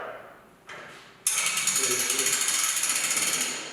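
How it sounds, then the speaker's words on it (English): A ratchet strap is cranked tight on a semi truck hood during heavy-duty hood removal with a lift, starting with a couple of handling clunks, then a fast, even run of close metallic ratchet clicks, with no talk. "Now I'm going to walk around and I'm going to go ahead and tighten up the strap."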